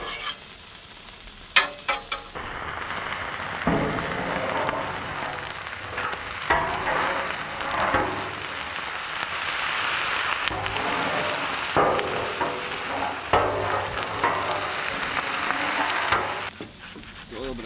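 Venison stir fry sizzles steadily on a Blackstone griddle, a continuous close hiss broken by scraping and clacking of a spatula stirring the meat, with a few sharp knocks at the start.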